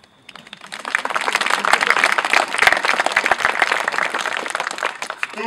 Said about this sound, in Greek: Χειροκροτήστε τον